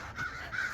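Birds call outdoors, a pair of short hoarse caw-like notes, faint and quick.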